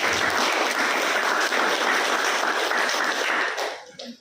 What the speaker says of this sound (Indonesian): berikan tepuk tangan Anda untuk Nusantara.